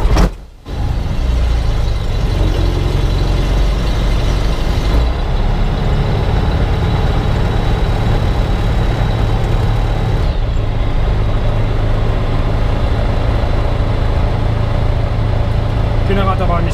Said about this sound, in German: Motor ist warm. Gas 5 mm und starten.